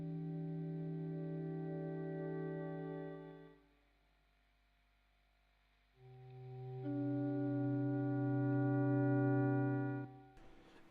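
Guitar chords played backward through effects swell in smoothly and cut off abruptly, two long sustained chords separated by a brief near-silent gap, with a faint click at the very end.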